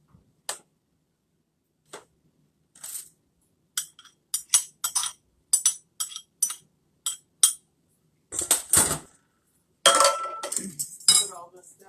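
A spoon knocks and clinks against a bowl while thick, doughy apple pie bread batter is beaten by hand, the sharp taps coming in irregular bursts with pauses between them and a busier scraping flurry near the end.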